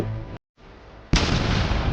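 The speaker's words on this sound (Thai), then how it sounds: "ลันลันบินอยู่บนนกวิเศษเพื่อหนีจากการระเบิดของปราสาท" A castle blows up in a 3D cartoon: a loud, sustained explosive roar bursts in after a short silence and fills the end of the clip, with rumbling crackle like fireworks.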